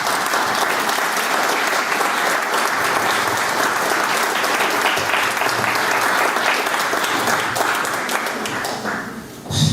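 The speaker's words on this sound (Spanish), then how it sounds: "a quien le pido un fuerte aplauso" A loud, sustained round of audience applause at a gathering honoring an association of families of the disappeared keeps a dense, even clatter for nearly ten seconds before briefly tapering.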